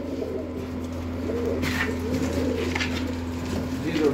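Sialkoti golden pigeons give soft, low cooing in repeated rounded calls that blend into a steady background hum. The birds sound fairly close but quiet.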